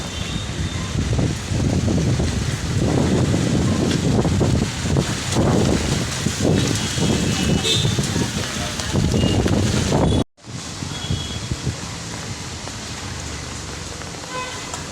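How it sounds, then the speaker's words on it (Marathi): Heavy rain on a busy road with traffic, a loud continuous roar of rain and passing vehicles with wind buffeting the microphone, dropping sharply to a quieter, steadier wash after a brief cut. "हे बघा पावसामुळे किती ट्रॉफिक झालेलं आहे इथे."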